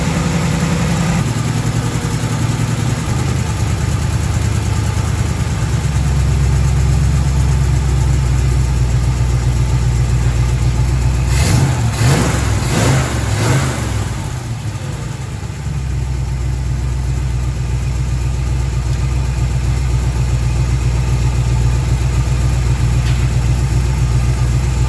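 A Chevy engine with an HEI distributor idles with a steady low rumble, close and loud, and one brief rise and fall in revs near the middle before it settles back to an even idle.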